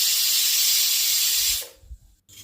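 A pressure cooker boiling potatoes lets off steam in a loud, steady hiss for about a second and a half, then cuts off abruptly, leaving only faint low rumbles.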